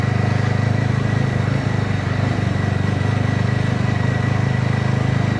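A BSA Bantam 350 motorcycle is ridden through the Suffolk countryside near Orford, its engine putting out a loud, steady, even drone that runs unbroken throughout.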